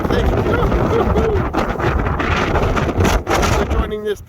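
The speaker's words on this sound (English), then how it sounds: "That's a bit windy there." Wind buffets the microphone along the South West Coast Path during a walk with three dogs, a loud steady roar of gusts throughout with a brief lull near the end.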